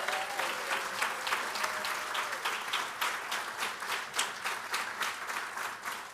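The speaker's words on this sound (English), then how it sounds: "Please join me in giving them a round of applause." Applause from the audience at an annual spring celebration gala, a sustained round of many hands clapping at even strength with a fairly distant, roomy quality.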